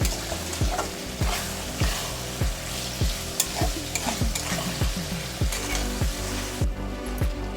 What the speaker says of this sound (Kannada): ಈಗ ರುಚಿಗೆ ತಕ್ಕಷ್ಟು ಉಪ್ಪು ಹಾಕೋಣ. ಮಿಕ್ಸ್ ಮಾಡ್ಕೊಳ್ಳಿ.